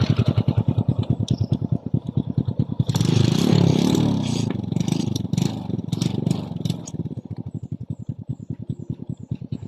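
A Kymco Visar 110 motorcycle engine starts and idles with an uneven, misfiring putter. It is given a rough, sputtering rev burst, then falls back to a choppy, irregular idle, heard close and loud with no talking.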